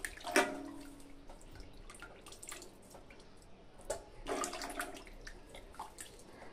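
Raw chicken pieces being rinsed and squeezed by hand in hot water in a bowl: intermittent splashes and sloshing, with two louder bursts of water movement, close by, no voices.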